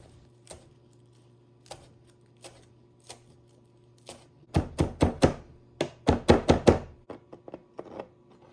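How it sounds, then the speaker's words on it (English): A knife chops Italian parsley on a cutting board, starting with sparse single knocks and then breaking into a quick, close run of sharp rhythmic chops before slowing again, with a faint low hum beneath. "And then I'm going to chop some Italian parsley, which adds freshness and extra nutrients."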